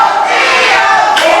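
A wrestling crowd at a GLWA Summer Bash 2024 match roars and cheers in a loud, sustained wash of voices that fills the arena without a break.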